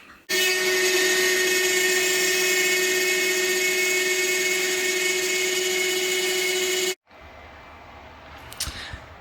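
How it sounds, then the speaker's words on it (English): A CNC machine cuts a bass amp knob cover, a loud steady high-pitched whine of the spindle that runs for about seven seconds and then stops abruptly, leaving quieter handling noise. "So I'll send that to my CNC machine."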